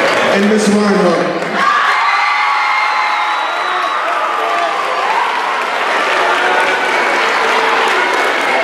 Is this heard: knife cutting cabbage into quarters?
no